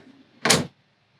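A drawer in a custom camper van slides shut with one brief, close thud, then quiet.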